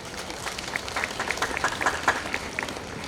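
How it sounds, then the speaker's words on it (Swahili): Scattered applause from a graduation ceremony audience at a technology institute, individual claps standing out in an uneven rhythm that swells midway and then thins. "Hapo mnapiga makofi tena."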